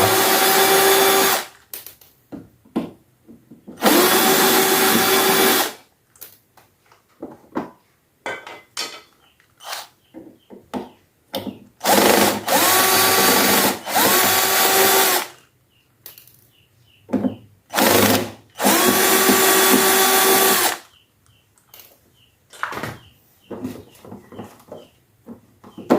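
A power drill spins out bolts from the stand of an LG 32LH500D LED TV in short whirring bursts of a few seconds each, close and loud, separated by metallic clinks and handling noises.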